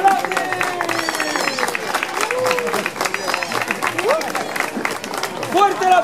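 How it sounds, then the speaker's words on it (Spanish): A crowd claps and cheers for musicians performing at a medieval fair in Ferrol, A Coruña; steady, fairly loud applause runs throughout, with voices talking over it. "¡Fuerte el aplauso al grupo Volante!"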